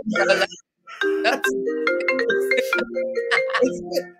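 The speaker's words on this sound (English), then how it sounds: "Why is my phone ringing?" A phone rings indoors with a bright, repeating melodic tone in pulses, while a person talks over it at moderate volume.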